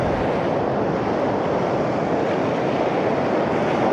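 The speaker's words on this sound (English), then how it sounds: "the waves are obviously hitting that pole like just now" Ocean surf breaking steadily on the shore beside a fishing pole, a loud continuous wash of waves with wind buffeting the microphone throughout.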